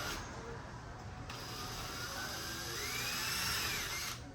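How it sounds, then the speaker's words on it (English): Small-bit drill boring a hole in metal held in a vise: faint, thin high-pitched whine with slight pitch shifts, steady over a low background hum. "take your drill with a small bit, put it in that spot where it's supposed to drill"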